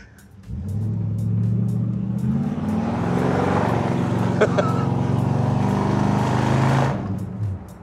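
A Ford Ranchero spins its wheels on ice, its engine revving hard in one long, loud, sustained roar that starts abruptly and cuts off near the end.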